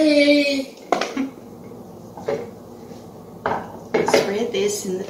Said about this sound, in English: So I'm spreading this batter into this pan.